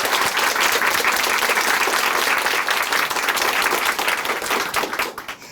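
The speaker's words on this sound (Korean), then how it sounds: "큰 박수 보내드릴게요" Sustained audience applause fills a church testimony broadcast studio, a dense, steady wash of many hands clapping that fades toward the end.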